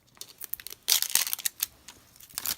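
LOL doll toy packaging is peeled and crinkled open up close, with bursts of tearing and crumpling plastic and foil in an uneven rhythm, loudest in the middle stretch.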